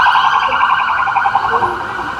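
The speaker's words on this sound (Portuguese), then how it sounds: "Aqui uma viatura de polícia passando." A loud, steady wailing siren of a police car on a rainy Copacabana street dominates, holding close before easing slightly toward the end as it moves past.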